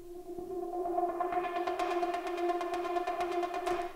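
A guitar loop in a track intro sweeps upward through a filter, a sustained droning tone with rhythmic plucked pulses growing brighter and louder over several seconds, heard alone.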